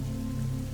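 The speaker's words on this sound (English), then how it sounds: "Rain poured down," Heavy rain pouring down steadily in a storm, a dense continuous hiss of falling water with an even, unbroken level and no voices.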